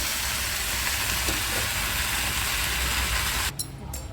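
Green chillies sauté in a small pan (vanali) for a keerai and kovakkai poriyal, giving an even, continuous sizzle and hiss that cuts off abruptly near the end, followed by a couple of brief sharp clicks.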